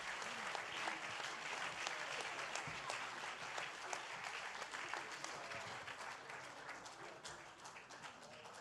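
A congregation at a Friday Shabbat service breaks into sustained applause, a dense wash of many hands clapping together that holds steady and tapers slightly toward the end.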